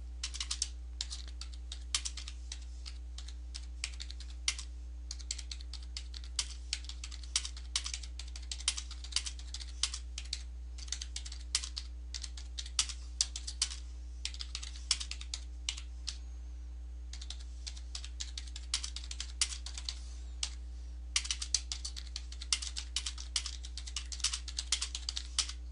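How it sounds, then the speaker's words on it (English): Someone types an email on a computer keyboard, producing quick, irregular bursts of soft key clicks with brief pauses, close and fairly quiet over a low electrical hum. "I can type one out such as"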